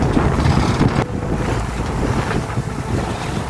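A sailboat cruising under full sail in gusty wind on a moderate sea in the Bay of Biscay, with loud, steady wind roar buffeting the microphone over rushing waves and water along the hull.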